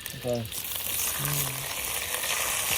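Frozen coriander roots dropped into hot oil, a loud, busy frying sizzle and splatter close by, continuing throughout with short tonal bleeps near the start, no talking.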